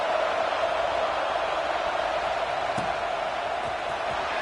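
Stadium crowd noise fills an NCAA college football video game before a kickoff, a steady, dense wash of distant murmuring spectators that holds at an even level throughout with no distinct cheers.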